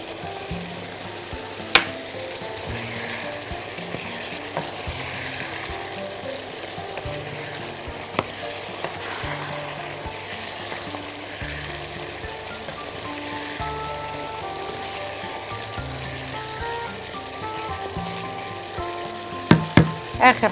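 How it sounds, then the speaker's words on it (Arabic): Sausage frying in a pan with green peppers and hot chili peppers, stirred as it cooks: a steady, close sizzle and crackle runs throughout, with a few sharper clinks near the end. "نحط بقى دلوقتي الفلفل الاخضر اللي عندنا، ونحط الفلفل الحراق،"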